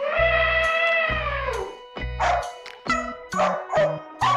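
A dog barks and yips in a quick series of loud, close, sharp calls, the first few drawn out and the later ones shorter and choppier.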